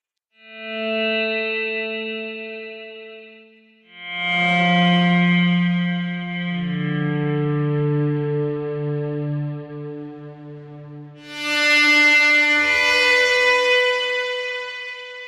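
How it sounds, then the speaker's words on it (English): Sustained, heavily processed electric guitar notes through Pulse-Setter Sounds Dystopian effects pedals ring out with a buzzy, gritty edge and echoing tails, shifting between held chords and brighter bursts. "We can get pretty distorted, gnarly tones out of that one."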